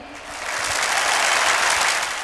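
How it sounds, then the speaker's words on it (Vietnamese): Sustained, steady applause from a large audience at a Vietnamese high school alumni reunion, rising quickly and holding loud throughout with no talk over it. "chúng ta hãy dành cho tất cả các thầy cô và tất cả các anh chị một tràng vỗ tay thật lớn"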